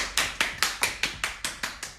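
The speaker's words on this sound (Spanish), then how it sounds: "Otro aplauso." A steady run of about nine sharp, evenly spaced claps, close and crisp, sounding like a single pair of hands rather than a crowd.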